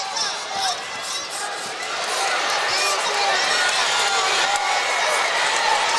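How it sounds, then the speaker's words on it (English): A boxing crowd at an amateur bout cheers loudly and continuously, a dense roar of voices swelling slightly as the fight goes on, with commentary talk mixed in. "The crowd's going nuts"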